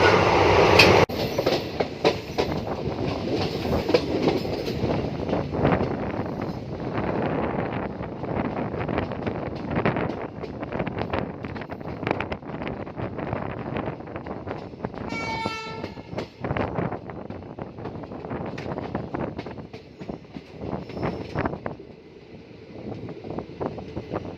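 The Daulatpur Chowk–Sabarmati Express rolls along the rails through Rajasthan with a steady rumble and rhythmic clickety-clack, a brief horn sounding midway, and wind buffeting the microphone throughout.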